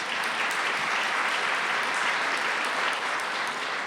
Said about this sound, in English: Was that Steve Novick clapping?